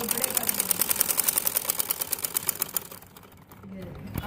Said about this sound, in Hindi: फोल्ड करके इसके ऊपर सिलाई लगानी है